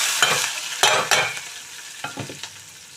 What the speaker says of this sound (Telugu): జీలకర్ర ఆవాలు వేసాను ఇవి బాగా చిట్టుకోవటం అన్న తర్వాత ఉల్లిపాయలు పచ్చిమిర్చి